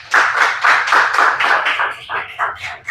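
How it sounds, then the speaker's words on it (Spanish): A church congregation applauds together at Iglesia Favor Divino, producing steady, rhythmic group clapping that stays loud and close throughout, slightly loosening and thinning toward the end, with no talking over it. "Dale un aplauso a Jesús."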